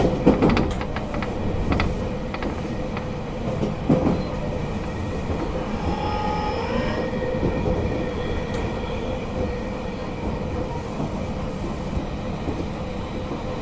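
A JR Kyushu 813 series electric train, set RM1104, runs on a local service toward Hakata, heard from inside as a steady rumbling roar with some clicks and rattles, no voices.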